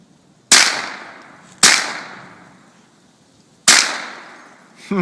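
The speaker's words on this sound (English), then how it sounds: "Those bullets are almost bouncing off Katie's head." Three loud, sharp gunshots from a .22 rifle fired at beer bottles outdoors, each a crack followed by a long fading ring, spaced irregularly, with another crack starting just at the end.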